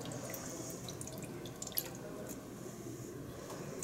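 Oil drops swirled and agitated in a cup of water make faint, soft liquid dripping and sloshing, low and steady over quiet background noise.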